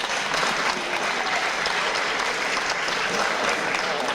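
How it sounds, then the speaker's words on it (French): Steady, dense applause from a large audience fills the whole stretch at an even, loud level. "applaudissez-vous, commencez par vous applaudir"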